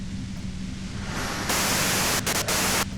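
White noise static hisses in Disco Elysium, a steady broadband rush that swells louder midway and briefly dips a few times, with no other sounds over it.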